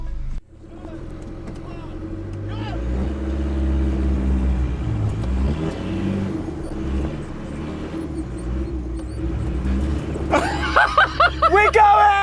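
SsangYong Musso 2023 pickup truck driving off road on a working farm, its engine rumbling steadily at low pitch and rising as it pushes on, with excited voices talking over it and a louder burst near the end.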